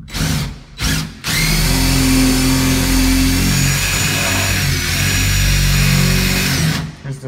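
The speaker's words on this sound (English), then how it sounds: "You can see that it drilled it, kind of drilled it out. I'm gonna reverse it." A power drill fitted with a screw extractor runs in reverse on a stripped screw, two short whirring bursts followed by a long, loud, steady motor whine close up that fades out near the end.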